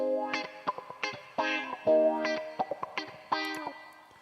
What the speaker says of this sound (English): this reverb we have on our guitar right now